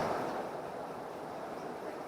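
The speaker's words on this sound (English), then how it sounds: "Bit windy, isn't it?" Wind gusting through an open workshop door during work on a Marcos Mantula rear axle and suspension, a faint steady rushing whoosh with no talk.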